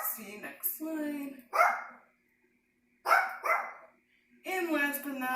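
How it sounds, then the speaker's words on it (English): A dog barks in short bursts at close range, with several separate yaps spread across the moment and brief silent gaps between them. A faint steady hum runs underneath. "if my dog will stop barking"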